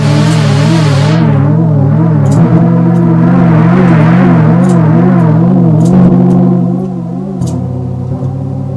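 U-he Hive synthesizer with its filter driven hard through the input gain, a loud buzzing tone whose pitch wobbles in a steady wavering pattern, then drops lower and quieter near the end, playing alone.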